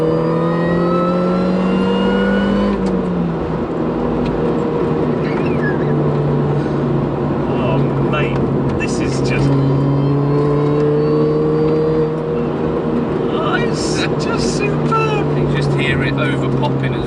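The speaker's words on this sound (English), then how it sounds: "Standard JCW GP exhaust, it's just been de-resonated." A Mini turbo engine with a de-resonated standard JCW GP exhaust drones steadily while driven on a B road, its revs rising and falling throughout, heard loud from inside the car.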